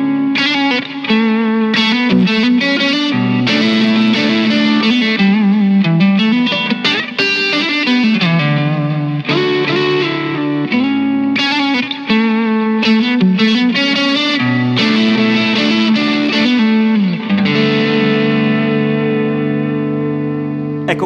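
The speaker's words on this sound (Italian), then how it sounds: "ho tirato appena su la distorsione, quindi è proprio increspato il suono" An Aria Pro II Fullerton electric guitar with light distortion plays a continuous melodic riff with bends and sustained notes, loud and close, the tone slightly gritty, with no voices.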